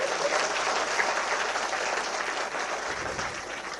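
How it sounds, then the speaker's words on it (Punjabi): Steady applause from a large audience at a live political event in Punjab, a dense continuous wash of clapping that holds evenly for the whole stretch with no voices over it. "ਜੇ ਸਹੀ ਹੈ ਤਾੜੀ ਮਾਰ ਦਿਓ ਨਹੀਂ ਤਾਂ ਨਾ ਮਾਰ"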